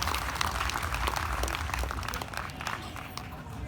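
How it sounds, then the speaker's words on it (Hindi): Audience applause at a Hindi poetry recital: dense, steady clapping that fills the whole stretch at an even, moderately loud level, with no voices over it. "तालियां बजा दो इसके लिए।"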